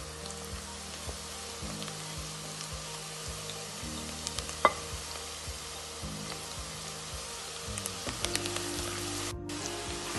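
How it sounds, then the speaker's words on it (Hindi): Ginger garlic paste and spices for seekh kabab masala fry in a pan with a steady, fairly quiet sizzle and a few brief stirring clinks, no talking. "जब तक ये गोल्डन ब्राउन नहीं होता हम इसको फ्राई करेंगे"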